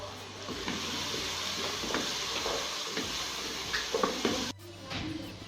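Chopped vegetables with carrot fry in a pan with a steady close sizzle, broken by scattered scrapes and stirring clatters, then a brief sharp knock and a quieter stretch of frying.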